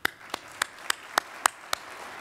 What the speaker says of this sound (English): So another round of applause for Mr.